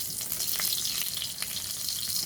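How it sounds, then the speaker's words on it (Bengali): Panch phoron spices frying in hot oil in a wok give a steady, close sizzle with a faint crackle running through it, alone and unbroken. "ফোড়নটা আমি একটু তেলের ওপর ভেজে নিচ্ছি।"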